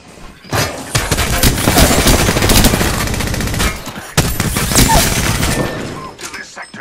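Dense bursts of automatic gunfire from the battle royale game Apex Legends, loud and close, rattling almost continuously with a short break midway.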